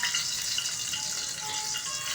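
Garlic frying in a hot pan for Filipino pakbet, a steady close crackling sizzle that holds evenly throughout with no talk.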